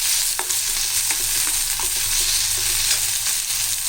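Chili, garlic and tomato sautéing in a pan for tomato peanut chutney, a loud continuous sizzle with repeated light scraping taps of stirring, close up and without talk.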